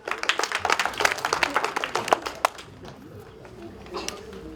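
Audience clapping for a performer at a folk theatre educational workshop, a burst of dense applause that thins out after about two seconds, leaving faint room noise with a stray clap or two.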